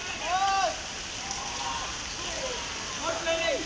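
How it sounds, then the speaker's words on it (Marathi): Steady soft patter of rain falling, with faint bird chirps rising over it now and then. "खाली पाऊस पडतो"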